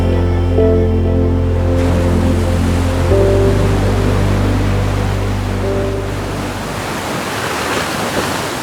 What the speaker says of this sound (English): it was time to relax to the sound of Mother Nature's waves